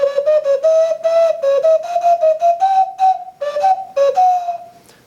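A handmade ceramic bird whistle is blown in a quick series of clear, bright toots, the pitch stepping up and down as finger holes change, close and loud with short gaps between notes.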